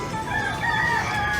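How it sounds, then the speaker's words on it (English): Chicken sounds from a fowl on an island stop during a cruise, continuous and fairly steady against an outdoor background, with no talk over them. "Chicken."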